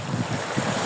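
Sea waves wash against the shore on a cold, windy seaside in Tallinn, with a steady broadband roar of surf and wind buffeting the microphone throughout the short stretch.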